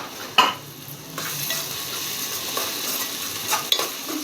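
Bay leaf, cloves and black peppercorns sizzle in hot oil with a continuous crackling fry, punctuated by a couple of sharp clinks of a spoon stirring against the pan, close and steady with no talk.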